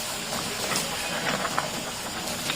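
Vegetables hit a hot pan already holding grilled fish, giving a steady, close, broadband sizzle with small crackles and no voices over it.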